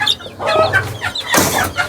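Aseel roosters cluck busily and crow close by in a backyard flock during a scuffle, with overlapping squawks and a louder burst toward the end, and no talk.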